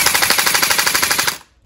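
A Honey Badger gel blaster fitted with an M4A1 magazine fires a loud, rapid burst of about twenty evenly spaced shots before stopping abruptly, leaving near silence.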